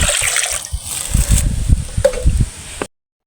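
Water splashing and gushing into a cooking pot, a close, uneven pour with bursts of sloshing that stops abruptly near the end.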